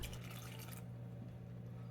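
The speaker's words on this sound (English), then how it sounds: "put in 3/4 cups of both milk and water separately" Milk and water pour into a bowl of flour for Yorkshire pudding batter, a short soft splashing stream that stops abruptly, with no talking.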